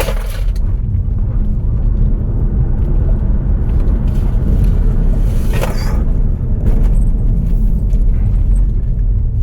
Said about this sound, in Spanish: Este coche acelera muy pasadito de lanza.